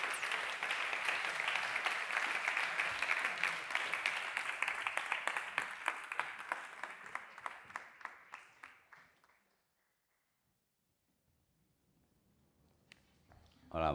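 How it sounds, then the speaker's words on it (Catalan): A conference audience claps loudly to welcome two speakers at an arts and science research event, a dense steady round of applause that thins into scattered claps and stops, followed by near silence and a brief noise at the end. "ho fem amb un aplaudiment"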